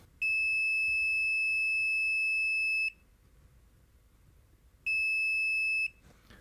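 A digital multimeter in continuity mode emits a loud, piercing steady beep for nearly three seconds, goes quiet, then beeps again for about a second.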